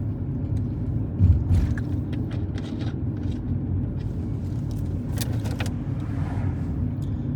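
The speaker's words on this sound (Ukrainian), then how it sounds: "Зараз буде перехрестя, на ньому будемо їхати прямо." A car driving through an intersection during a driving lesson gives a steady low engine and road rumble from inside the cabin, with faint clicks and rattles above it and no talking.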